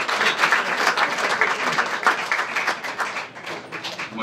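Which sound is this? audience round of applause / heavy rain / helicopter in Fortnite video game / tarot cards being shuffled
audience round of applause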